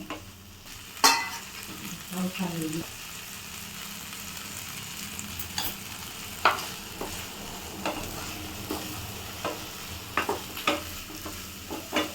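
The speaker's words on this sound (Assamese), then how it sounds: "ভাজি ৰখা মাছৰ কণীখিনি দি ভাল ধৰণে আমৰ লগত লৰাই তাক মিলাই দিব" Fried fish roe being stirred with raw mango in a pan, a spoon scraping and clacking in bursts over a steady low sizzle, close and moderately loud with no talking.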